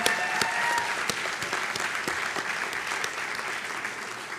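A graduation ceremony audience applauds the graduates' parents, a dense, steady wash of many hands clapping that stays loud throughout with no voices on top.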